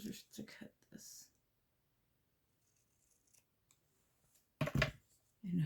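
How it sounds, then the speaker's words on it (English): Scissors snip paper for a window coin envelope in a few quick cuts up close, then a quiet stretch, then another burst of cutting at the end. A voice is heard softly. "I'm going to try with scissors to cut this"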